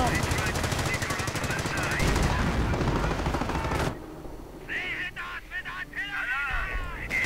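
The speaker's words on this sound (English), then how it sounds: "another Panther in the north coming under fire from heavy machine gun fire" Heavy machine gun fire in a wartime strategy video game: dense rapid bursts of automatic gunfire rattling for about four seconds, then quieter scattered shots and battle noise, loud and close with a voice commentating over it.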